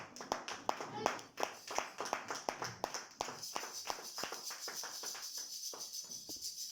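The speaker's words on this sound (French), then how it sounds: "Est-ce qu'on peut applaudir la parole de Dieu?" A church congregation claps in a steady, fairly quick rhythm, many hands together, moderately near, gradually loosening into a denser patter toward the end.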